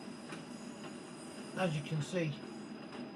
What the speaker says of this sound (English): it bounces along the track